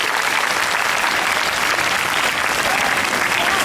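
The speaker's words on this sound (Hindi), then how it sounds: "और सब एक बार जोरदार ताली बजा लें" Loud, sustained clapping from a crowd at a Mother Tongue Day celebration, with continuous applause at even intensity throughout.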